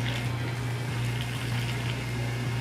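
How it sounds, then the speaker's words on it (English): Red Bull energy drink being opened and poured from its can by a bartender, giving a steady, close fizzing and liquid hiss over a low hum for nearly three seconds. "open your can, and then start pouring like this"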